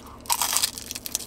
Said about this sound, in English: Let's hear the crunch again.